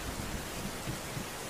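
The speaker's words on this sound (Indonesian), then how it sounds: "Kilat petir, suara guruh, hujan deras, dan badai di kota Mekah." Heavy rain pours over Mecca during a storm, a steady dense hiss with faint low rumbles of thunder underneath.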